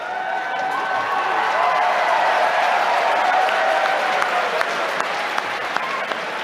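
A large audience at a speech and Q&A at Iowa State University claps steadily and loudly throughout, a dense continuous wash of applause with scattered sharper claps toward the end.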